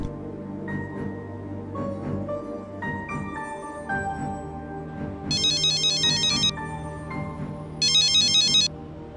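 An electronic phone ringtone chirps in two short bursts over gentle background music.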